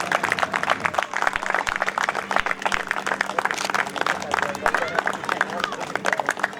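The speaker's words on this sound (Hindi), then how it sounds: "एक बार जोरदार तालियां।" Audience applause at a Hindi comic poetry gathering (hasya kavi sammelan) in a township, steady dense clapping from a crowd filling the whole stretch at moderate loudness, with some murmuring underneath.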